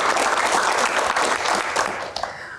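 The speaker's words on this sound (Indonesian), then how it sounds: "tepuk tangan anak kolong" Audience at a Q&A event breaks into loud, dense applause, a sustained clatter of many hands that stays strong before tapering slightly at the end.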